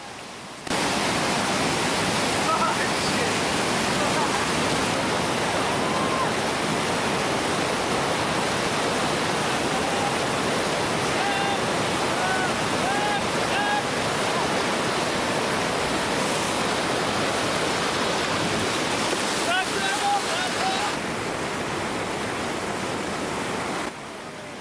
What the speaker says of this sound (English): The waterfall is easy, flat on top and flat on the bottom.